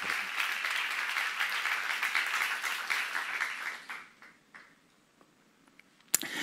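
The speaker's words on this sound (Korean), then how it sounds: "박수 하세요" Church congregation applauding during a Bible seminar, with steady dense clapping for about four seconds before it thins out into scattered claps and a quiet pause, then one sharp sound at the end.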